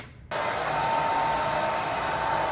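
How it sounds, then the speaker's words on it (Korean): A handheld hair dryer switches on abruptly and blows steadily and loudly at close range, drying and directing the top section of a man's drop-cut haircut forward during styling. "이런 식으로 드라이기에 열을 줘서 앞쪽으로 방향을 보내줍니다"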